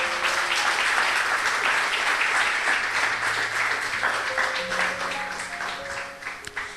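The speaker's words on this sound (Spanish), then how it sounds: "Dele un fuerte aplauso a Dios." A church congregation bursts into loud, sustained applause during a Spanish-language sermon, many hands clapping together and slowly thinning out toward the end.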